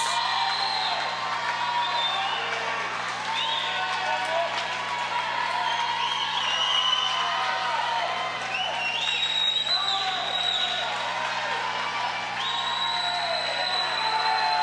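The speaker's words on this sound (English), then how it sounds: "Lane 2 receiving cheers from the crowd, his teammates." A crowd of teammates and spectators cheers and claps steadily for a swimmer in lane 2 at a high school swim meet, a busy, echoing din with whoops rising over a constant low hum, no distinct voices standing out.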